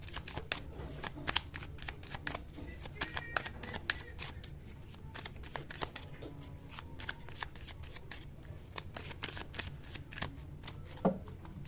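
Tarot cards shuffled continuously by hand, a steady run of close, crisp riffling flutters with no talk, ending on a sharper snap near the close.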